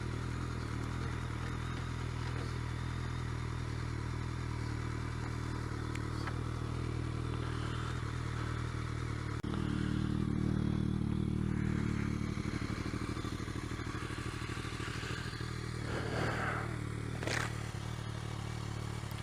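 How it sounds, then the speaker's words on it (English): BMW K1200S motorcycle engine idling and riding, a steady low drone with a short louder surge midway and a few clattering knocks near the end, heard alone without talk. "That is the K1200S. I'm going to see if I enjoy this bike."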